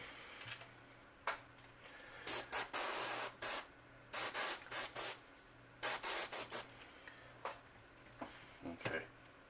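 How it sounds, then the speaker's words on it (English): Short hissing bursts of spray paint come in quick clusters while painting a rustic sauger fish piece, some brief and some longer, close by over a quiet background hum. "a light spray"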